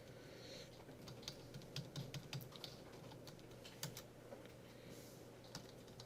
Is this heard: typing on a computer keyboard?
yes